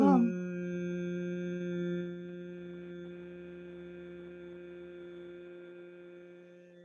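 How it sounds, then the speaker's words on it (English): A single voice chants a sustained hum during a yoga throat mudra, one steady tonal drone that starts strong and slowly fades over several seconds. "At the throat, we do the sound hum."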